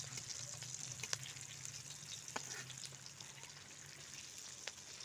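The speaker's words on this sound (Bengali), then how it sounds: "কয়েকটা ধোকাকে দিয়ে দেবো অল্প অল্প করে ভেজে নেবেন" Dhoka lentil cakes frying in hot oil over high heat, a soft, continuous crackling sizzle with a few faint sharper pops, fairly quiet and without talk.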